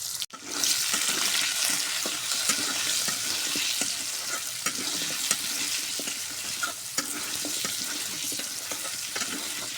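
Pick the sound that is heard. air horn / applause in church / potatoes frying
potatoes frying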